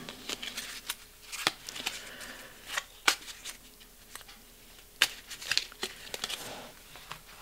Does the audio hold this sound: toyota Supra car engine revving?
no